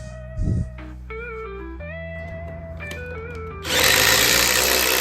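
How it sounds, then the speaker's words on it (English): A power tool whines through rising motor tones, then an impact driver hammers loudly and steadily as it drives a lag bolt into wood. "just run them in with an impact"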